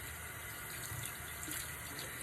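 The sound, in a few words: tap water running while rinsing a paint brush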